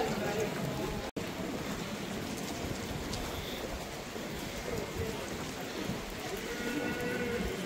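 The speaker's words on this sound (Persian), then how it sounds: "عجب بارونی گرفت" Heavy rain pours down on a Brussels street, forming a dense, continuous hiss of drops on pavement that stays steady and fairly close throughout, with a voice faintly present beneath it.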